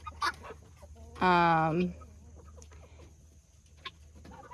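Large-breed Bielefelder chickens in a farm yard let out one loud, drawn-out cluck among faint background calls, and a person briefly speaks.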